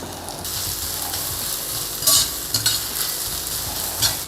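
Onion stir-fried with ginger and garlic in a hot pan for beef innards paklay, a steady loud sizzle throughout with a few sharper bursts of spattering and stirring, no voices.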